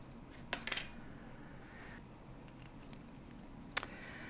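Scissors cut a thin strip of 24K gold foil on a Teflon work surface, giving a few faint, quick snips in a quiet room.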